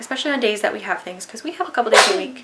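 A single sharp sneeze bursts out near the end, cutting through steady conversational talk indoors at home.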